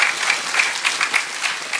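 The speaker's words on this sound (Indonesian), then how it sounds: "Tepuk tangan dulu." An audience at an Islamic religious gathering claps in steady, dense applause, close and fairly loud, with no talk over it for the whole stretch.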